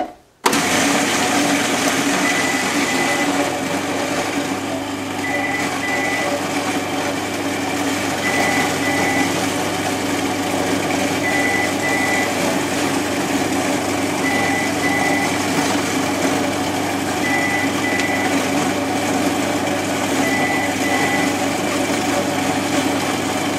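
A food processor whirs steadily while blending a raw lemon bar mixture with lemon juice, a loud, continuous motor drone holding even for over twenty seconds with no pauses.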